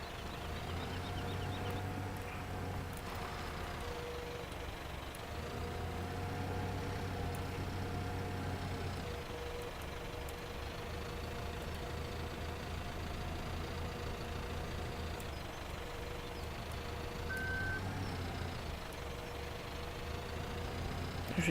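A farm vehicle's engine in Farming Simulator 2017 drones steadily at idle to medium revs, swelling and easing in slow cycles, with a faint high tone from a reversing beep near the end; no talking.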